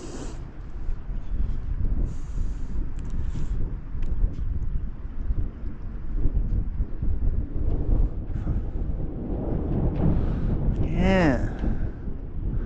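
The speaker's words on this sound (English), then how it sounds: "suddenly a big breeze kicks up in the evening" A strong evening breeze at anchor in St. James Harbor, Beaver Island, a steady rushing roar buffeting the microphone, with a brief voice near the end.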